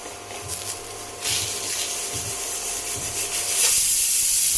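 A pressure cooker whistling and venting steam while mutton curry cooks, heard as a broad hiss that surges and grows louder toward the end over faint rhythmic kitchen noise.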